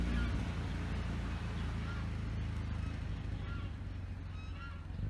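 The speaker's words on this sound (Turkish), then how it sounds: "Şu kazlar bana saldırırsa" Geese honk repeatedly at Poyrazlar Lake's picnic area over a steady low rumble of outdoor noise, fairly close, with scattered calls across the stretch.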